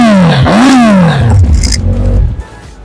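A loud superbike motorcycle engine revs up, its pitch sweeping up and down, then drops to a rough idle with some clattering, close by.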